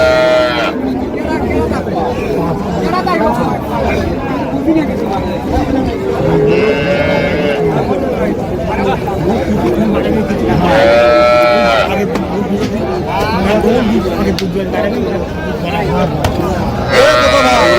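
Cattle, including dairy cows and calves, at a busy village livestock market in Raniganj, with several drawn-out moos rising over a constant murmur of crowd chatter and nearby people talking.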